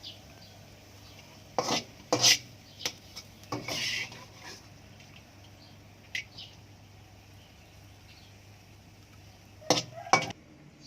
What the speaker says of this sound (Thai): เดี๋ยวตักใส่จานนะครับ